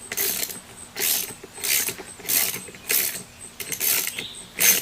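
Channel-lock pliers working the blade nut loose on a Black & Decker MM1800 electric mower, a series of about eight repeated metallic ratcheting grinds, close and evenly spaced, with no speech.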